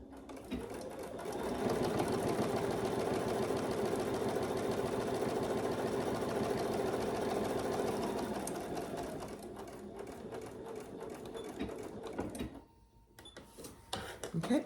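A Bernina sewing machine chain stitching runs in a fast, steady mechanical whir for several seconds up close, then slows and stops with a few clicks and handling sounds.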